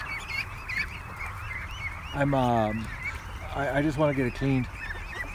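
Ducks in a barn give loud honking, nasal calls in a couple of close bursts, while someone speaks briefly over them and soft chirping sounds continue in the background.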